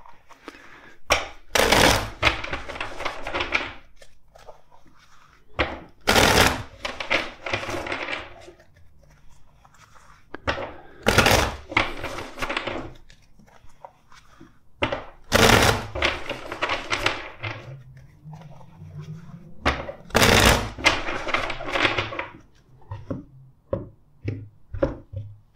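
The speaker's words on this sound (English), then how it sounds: "Let's shuffle the deck four times." A deck of tarot cards is shuffled in five separate bursts, each a sharp riffling flutter a few seconds apart, with quiet handling in between.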